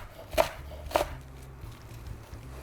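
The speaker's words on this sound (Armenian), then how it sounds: "Նորեն մանր ենք կտրատում" A knife finely chops vegetables for parsley and corn cutlets: two distinct, fairly quiet chops about half a second apart, then a low, soft background.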